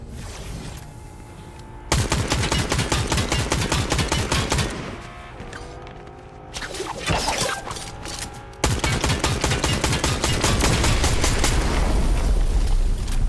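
Rapid automatic gunfire in Fortnite, long bursts of dense, loud, close shots broken by short pauses and scattered single cracks, with no talking over it.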